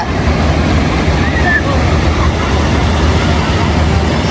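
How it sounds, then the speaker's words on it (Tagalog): Strong sea waves surge onto a beach in a loud, continuous wash of surf with heavy wind buffeting the microphone throughout. "Malakas yung alon dun guys"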